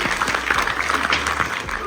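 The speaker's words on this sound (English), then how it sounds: "round of applause, everyone" An audience applauds in a short, dense burst of clapping that carries on steadily from start to finish.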